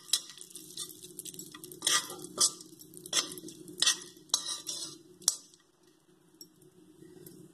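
Chopped dry coconut roasts in ghee in a pan, with a metal spoon clinking and scraping in irregular bursts over a faint steady sizzle. The stirring fades out near the end.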